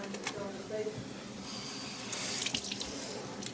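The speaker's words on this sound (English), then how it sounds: "Fill it with water." Tap water runs into a bottle, a steady hissing splash with brief dripping, while people talk excitedly nearby.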